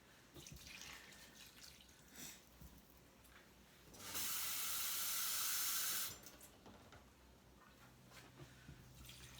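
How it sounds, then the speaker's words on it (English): Water pours from a cup into an Instant Pot over rice and vegetables for cheesy chicken and rice, a steady hissing splash lasting about two seconds amid quiet kitchen handling sounds. "But I do want to add at least 2 cups of water"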